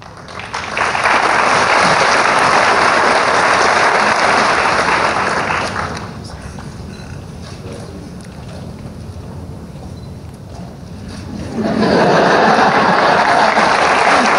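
At a student awards ceremony, an audience bursts into loud, full applause for a student, fading after several seconds into a quieter lull of scattered room noise before a second strong wave of clapping rises near the end.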